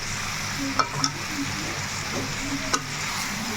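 Mutton biryani masala being stirred in a pan, a steady sizzle running throughout with a few soft scrapes of the spoon standing out near and clear, no voices.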